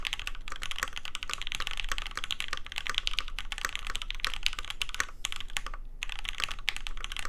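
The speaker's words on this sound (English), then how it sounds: "The sound of this board is much improved over the original high spec." Steady, quick typing on a Foundation Gamma TKL mechanical keyboard, a public group-buy run with gaskets, giving dense close-up clacks in an uneven rhythm with no talking.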